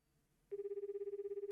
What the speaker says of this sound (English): Okay, we have a phone call.